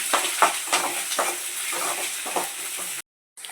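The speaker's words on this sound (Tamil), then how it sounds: "இப்போது கருவேப்பிலை போட்டு நல்லா வதக்கிக்கிறாங்க" Green chilies and curry leaves sautéing in a pan, a steady close sizzle broken by the scrape and clatter of stirring strokes, then a brief break into silence near the end.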